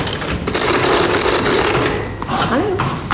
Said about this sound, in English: Sorry, that's a toy phone.